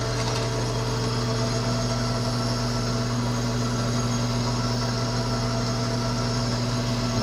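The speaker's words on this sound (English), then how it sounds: "we got our first facing cut in works here" Metal lathe taking a facing cut on a chuck back plate, a steady motor hum with constant tonal whine and hiss, unchanging and continuous with no talk.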